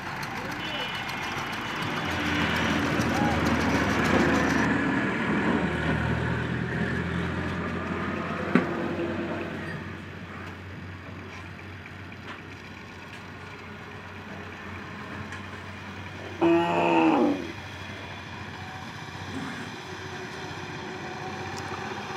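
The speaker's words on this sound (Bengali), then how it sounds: "গাড়ি খুব লোড পাচ্ছে, যার কারণে মানুষের দ্বারা গাড়িতে ধাক্কা দিয়ে উঠানো হচ্ছে।" A heavily loaded vehicle's engine straining and labouring as people push it along, a loud rough drone that swells and then eases off, with a brief sharp knock and a later short burst of louder revving.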